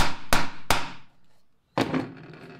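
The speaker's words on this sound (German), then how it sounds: "setzen den hier dran und nageln den erstmal hier fest" Hammer blows nailing a piece onto a wooden router jig for corner joints in a workshop: two sharp, loud strikes close together, a pause, then a third strike ringing out, with no talk.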